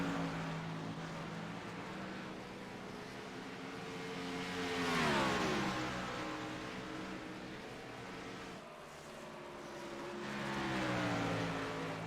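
Race car engines roar around the oval at Dover International Speedway in a sim racing league race, a steady loud drone from a close pack whose pitch rises and falls in sweeps as cars pass, with no talking.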